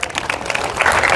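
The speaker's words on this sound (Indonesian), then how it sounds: "Berikan tepuk tangan buat Yesus." Church congregation clapping during a revival service, a short burst of dense applause mixed with crowd noise, steady and fairly loud throughout.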